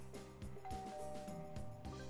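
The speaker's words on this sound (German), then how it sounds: "Ich würde sagen, wir klingeln jetzt dreimal," A doorbell in the Zak McKracken video game rings in repeated chiming tones over a busy game music backdrop, fairly quiet.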